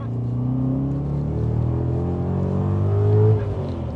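A 630 bhp BMW E39 M5 fitted with a Rotrex centrifugal supercharger revs up, a loud, deep engine rumble rising in pitch to a peak near the end and then easing off, with no voices.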